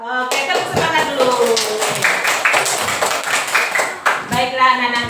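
Indonesian third-grade classroom doing a rhythmic clap cheer, children clapping and chanting together in short bursts, loud and close, with voices throughout.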